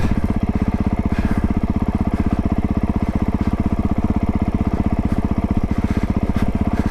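A 2025 Honda CRF450R Works Edition dirt bike engine runs on a snowy woodland trail, a steady, fairly quiet low thrumming drone with a rapid even pulse, close and continuous with no talk.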